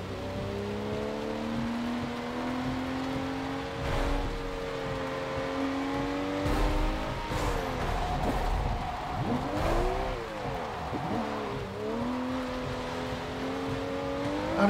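Video game car engine with a BMW nearby, droning steadily and close with rising and falling revs and gear shifts, a couple of thumps and scrapes along the way, no talk.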